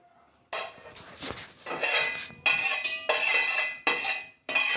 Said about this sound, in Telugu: ఇప్పుడు గరిటెతో కలుపుతున్నాం